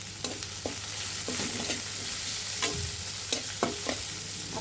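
Onion and black cumin frying in hot mustard oil for a river chanda fish and eggplant chorchori, a continuous close sizzle with repeated clicks and scrapes of a spatula stirring the pan.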